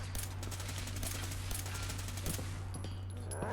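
Rapid automatic gunfire in the Fallout video game rattles in dense repeated bursts over a constant low hum, fairly quiet and continuous for a few seconds with no talking.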